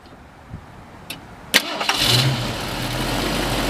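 A 1969 Ford Mustang Mach 1 with Flowmaster exhaust starts up: a few clicks and a sharp crank, then the engine catches and settles into a steady, loud idle rumble.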